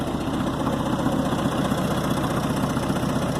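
A Gehl 4400 skid steer loader with a Ford engine idles close by, a steady low, even mechanical rumble with faint knocking vibration that holds at one level throughout, with no voices.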